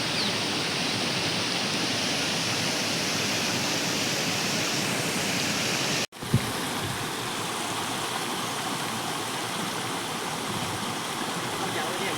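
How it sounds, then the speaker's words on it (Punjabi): Steady, loud rushing of heavy-rain floodwater flowing over a village road, broadband and unbroken, with a brief dropout midway before the torrent resumes. "ਦੇਖੋ ਕਿੰਨਾ ਪਾਣੀ ਵਗਣ ਡਿਆ"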